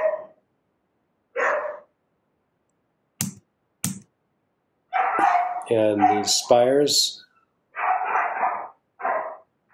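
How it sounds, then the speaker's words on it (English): Neighbours' dogs bark outside, giving several sharp, separate barks plus a couple of quick yips spread across the stretch, with a person speaking briefly among them. "pardon my neighbor's noisy dogs."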